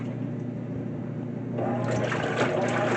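A 2024 GE top-loading washing machine on its normal cycle agitates water-soaked clothes with a soft churning, sloshing hum that grows louder and busier partway through, heard alone at close range.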